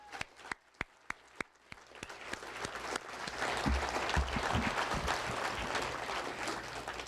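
At a varsity football banquet, a few sharp, isolated claps ring out before swelling into broad, sustained applause for the state championship team, with some shuffling and movement underneath.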